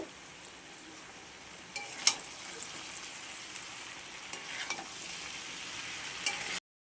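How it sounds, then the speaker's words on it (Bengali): Chowmein noodles tossed with softened vegetables in a hot pan, giving a continuous low sizzle with scraping stirs and a sharp utensil clink near the start, without any speech. "এখন আমি চাউমিনটা দিয়ে দেবো। চাউমিনটা দিয়ে মিশিয়ে নেব।"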